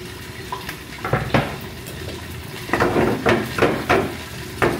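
Garlic goes into a pan and fries with a steady low sizzle, punctuated by a series of sharp metallic clanks and scrapes of a utensil against the pan, with no talk.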